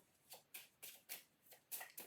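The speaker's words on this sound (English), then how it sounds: "Okay, one more shuffle." Tarot cards being shuffled in quick bursts, about seven short papery riffles at an even rhythm, close and fairly quiet with no talking.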